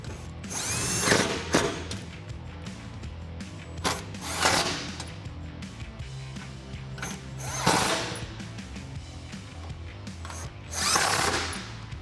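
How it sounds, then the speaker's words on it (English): Electric impact wrench with a 5mm Allen socket tightening bolts on an MP Concepts forged aluminum front bumper for a Jeep Wrangler JL, in four loud, short rattling bursts separated by quieter pauses. "We're going to use a 5mm Allen socket. And we're going to tighten down the line."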